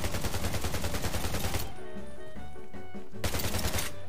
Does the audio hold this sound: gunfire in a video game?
yes